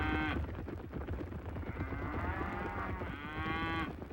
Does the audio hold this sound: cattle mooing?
yes